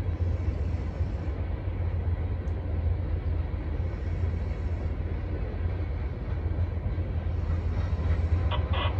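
A CSX freight train rerouted over Norfolk Southern track after a derailment rolls steadily past, with a DPU locomotive mid-train, a loud continuous rumble of wheels and cars lasting throughout.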